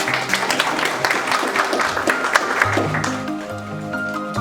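Steady applause from a crowd at a market opening bell ceremony fills the room, with background music playing underneath.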